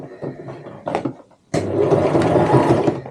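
A sewing machine stitches a fabric tote bag close to the edge, with the needle set to the left. A brief run is followed by a pause, then a loud, steady mechanical whir of continuous stitching.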